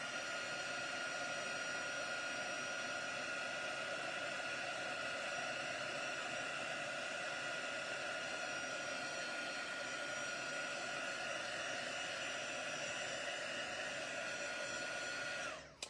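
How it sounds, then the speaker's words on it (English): A heat gun blowing on a pine cone coated in embossing powder gives a steady, even whooshing hiss with a faint whine, continuous and unbroken until it cuts off at the end. "that pine cone got too much embossing powder"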